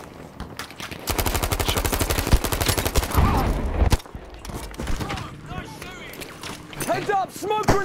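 Fast automatic rifle fire from teammates in the shooter game Battlefield V, a loud rattling burst lasting about three seconds, followed by quieter scattered shots while people talk over it.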